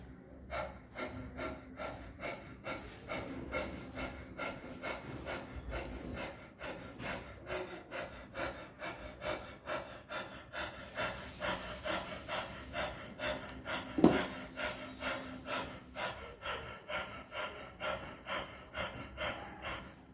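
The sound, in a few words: fast abdominal breathing with tongue out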